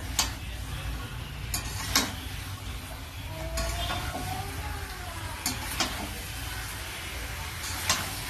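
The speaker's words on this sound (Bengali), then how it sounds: "মাংস ভালো করে কষানো হয়েছে" Chicken pieces are sautéed in a pan for a light home-style curry, with a low continuous sizzle punctuated by intermittent sharp scrapes and knocks of a stirring utensil, one faint tonal whine in the middle.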